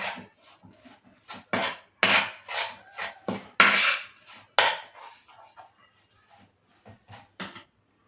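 A spoon scrapes and knocks around a pan while melted jaggery is stirred for sukhadi, giving irregular wooden scraping strokes and clacks between quiet gaps, close and moderately loud.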